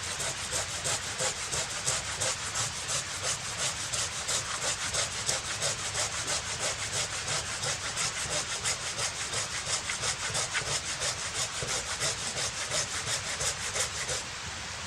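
Cedar wood being sawn by hand outdoors at a mountain lake campsite: steady, rapid back-and-forth saw strokes, close and continuous throughout.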